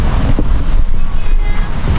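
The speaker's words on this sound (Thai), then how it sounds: "ลมแรงครับ" Strong wind on a beach roars into the microphone as a steady, loud, broadband rush with low buffeting rumble throughout, no distinct voices audible.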